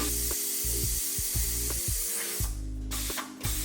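An MMS Solo S button sewing machine runs its automatic threading cycle, giving off quick repeated mechanical clacks and whirs in an irregular rhythm with a hissing undertone. It sounds close and moderately quiet, with no voices.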